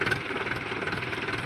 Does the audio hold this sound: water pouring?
no